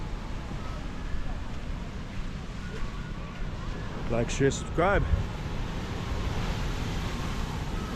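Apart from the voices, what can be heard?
huge ocean waves at a beach in Arecibo, Puerto Rico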